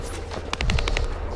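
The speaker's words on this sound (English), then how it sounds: "That stopped the gunfire." Rapid burst of automatic gunfire in the shooter game The First Descendant, a quick string of sharp, evenly spaced shots over a low rumbling game soundscape.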